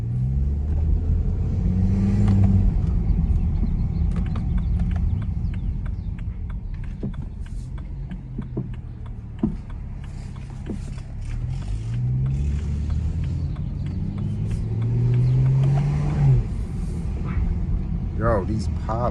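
Loud engine of a 400hp BMW 335i rumbling with revs rising and falling, crackling exhaust pops scattered throughout, a voice speaking over it.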